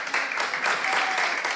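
Health workers in a hospital ICU in Madrid clap for their first extubated patient, a brief, dense burst of many hands applauding steadily with a faint murmur behind it.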